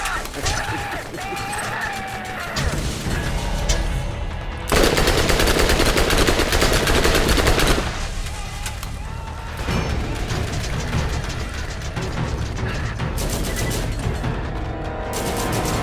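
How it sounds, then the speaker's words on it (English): Rapid automatic fire from a Corrodi SMG in Borderlands, dense bursts of gunfire running almost continuously with brief pauses, loud and up close amid game effects. "I'll try this out first. Corrodi SMG."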